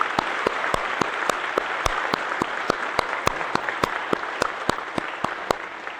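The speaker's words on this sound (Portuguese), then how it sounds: "Mais uma salva de palmas, né?" A church congregation applauds during a Sunday service anniversary celebration, dense even clapping with a regular sharp beat running through it, steady and moderately loud throughout.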